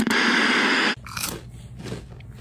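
A crunchy organic chip-like snack is bitten and chewed up close, with a loud sustained crunch followed by several quieter crackling bites.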